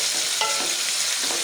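Chicken cooking in hot oil with onions for a Tinday Gosht salan, a steady close sizzle with a few stirring scrapes over a short stretch and no talk.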